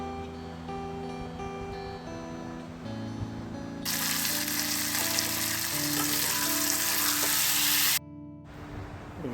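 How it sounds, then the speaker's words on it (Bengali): Potatoes and peanuts sautéing in a pan for a spicy chaat, first a gentle sizzle with stirring, then a loud, dense hiss of frying that swells midway, cuts out abruptly and returns softly. "এবার আলু সহ একটু কষাবো।"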